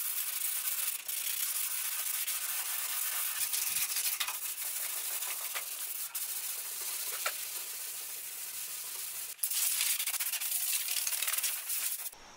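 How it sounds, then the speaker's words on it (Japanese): Steady hand sanding of body filler with 240-grit paper on a Mazda RX-7 FD3S under restoration, a continuous dry scratchy rasp of even strokes that runs the whole time with one brief pause, close and moderately quiet, no voices. "240番のペーパーで研いだ傷細かくして、全体240番で足付けやっていきます。"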